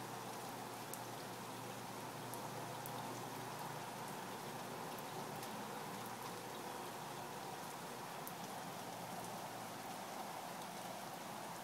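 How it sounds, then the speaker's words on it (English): Steady, quiet rain falling on outdoor surfaces, a soft continuous hiss with scattered drop ticks throughout and no talk. "Rain."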